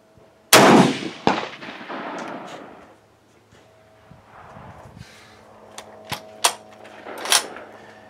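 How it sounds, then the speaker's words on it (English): A Springfield 1903A4 rifle fires at hanging steel pins on a range, one loud sharp crack followed by a second report, then scattered fainter clicks and knocks of bolt handling and range activity. "I'm going to take a couple of shots at the steel pins hanging down from the horizontal part of the bar."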